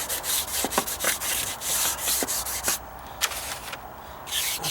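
A brush or applicator works sealer into wooden deck stairs in short, repeated rubbing strokes, close and fairly quiet, with brief pauses between passes.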